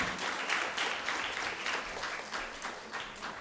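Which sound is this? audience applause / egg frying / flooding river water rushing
audience applause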